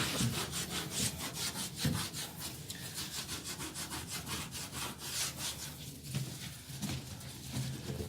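Steady rubbing scrub over dirty, mouldy grout, a stiff brush rasping back and forth in quick, even strokes, close and fairly loud with no voices.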